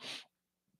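A single close sneeze bursts out loud and sharp, then cuts off to near silence with a faint breath or sniff trailing at the end.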